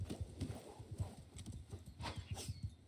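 Horse hooves clip-clopping in the video game War Sails, a steady rapid galloping rhythm of close, fairly quiet thuds with no talk over it.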